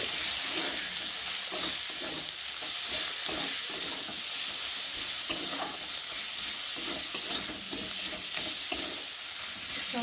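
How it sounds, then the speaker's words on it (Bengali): A spice paste of ginger, tomato, chili powder, turmeric and salt fries in a pan, a loud, continuous close sizzle with the scrape and stir of a spoon running through it. "টমেটো, আর দেবো গুঁড়ো লঙ্কা, আর দেবো হলুদ, আর পরিমাণ মতো নুন দিয়ে ভালো করে কষিয়ে নেব।"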